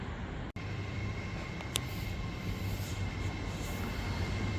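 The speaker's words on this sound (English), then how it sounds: "is a Class 390 Pendolino 390043" A Class 390 Pendolino electric train heads toward London Euston on the West Coast Main Line at Rugby, giving a sustained, close rumbling roar of wheels and rail with a brief sharp break near the start.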